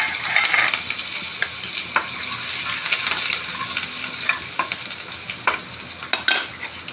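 Mustard seeds, asafoetida and green chilies fry in hot oil for a dosa preparation, giving a steady close sizzle broken by sharp stirring clinks and scrapes of a utensil against the pan, with no talking.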